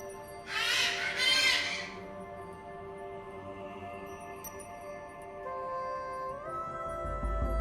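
Toucan in the Amazon rainforest giving two loud, harsh croaking calls in quick succession, followed by quieter forest ambience with faint insect hum.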